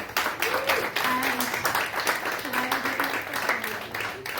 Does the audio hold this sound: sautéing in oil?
no